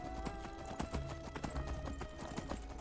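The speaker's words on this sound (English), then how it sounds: "Riding the donkey up the steps" Donkey hooves clopping up stone steps in Skyrim's Enderal mod, a close, quick, uneven run of knocks over a soft ambient background.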